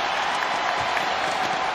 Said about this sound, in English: Crowd rises up.